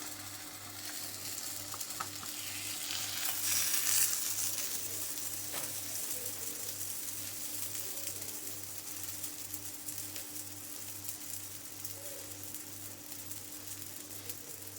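A wheat flour holige (obbattu) cooks on a greased tawa as a little oil is added, giving a low, even sizzle with faint crackles over a constant stove hum, with no voices.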